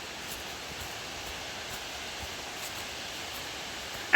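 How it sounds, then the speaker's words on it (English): Up close, a waterfall swollen after heavy rain rushes on a hiking trail, giving a steady broadband hiss and roar that holds even throughout, with a sharp knock right at the end. "We're close to the waterfall."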